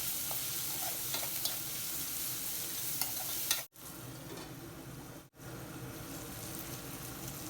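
Onions sizzling with salt and turmeric in a covered pan, a steady close frying hiss throughout with faint stirring clicks, broken by two brief drops to near silence.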